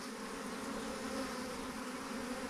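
A swarm of docile bees buzzes in a steady, dense drone that is faint but continuous throughout, with no voices.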